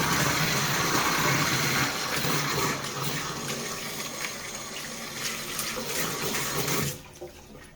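Tap water runs steadily into a sink while baby items are washed at home in rural China. The flow is close and even, then cuts off abruptly near the end.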